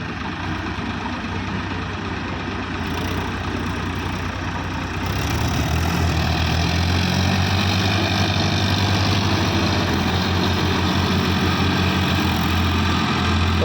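Mahindra, Farmtrac and Powertrac tractor engines pulling out of a muddy field, a steady heavy diesel drone that grows louder and fuller partway through and holds on without any talk.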